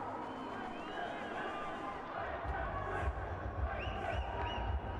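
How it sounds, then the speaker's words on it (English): A rugby league grand final crowd between the Sharks and Ryde roars in a steady wash of cheering and babble, with a commentator talking over the noise. "And the crowd goes wild."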